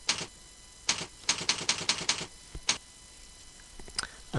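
Keys clack in quick, uneven bursts on a computer keyboard as a Betfair username and password are entered, close and clear against a quiet room with short pauses between strokes.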